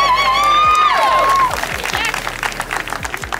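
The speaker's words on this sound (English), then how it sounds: "Let's give them all of a hand, round of applause." An outdoor crowd claps and cheers at Jackson State football day at the Mississippi Capitol, with a high whistle or whoop at the start and dense applause that fades into scattered claps.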